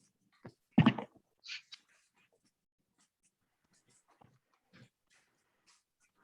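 Dogs moving in and out through an open back door produce brief, close sniffs, whimpers and panting bursts, scattered between quiet gaps, with a lab among them.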